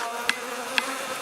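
A swarm of honeybees from a large relocated hive of roughly 150,000 bees hums in a steady, dense drone close by, with a couple of brief sharp ticks.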